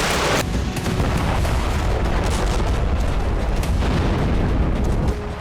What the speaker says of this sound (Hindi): कीव में इस्कंदर और उत्तर कोरिया की मिसाइलों से ताबड़तोड़ विस्फोट शुरू हो गया